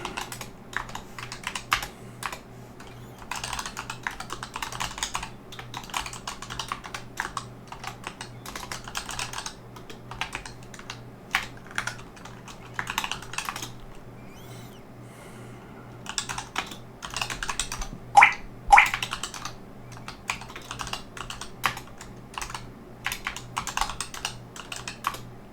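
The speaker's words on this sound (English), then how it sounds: "typing stuff out again" Rapid typing on a computer keyboard: continuous bursts of close, crisp key clicks with brief pauses and a steady low hum beneath, and no voices.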